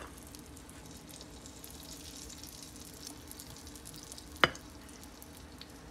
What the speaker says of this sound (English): So you can probably hear it sizzling.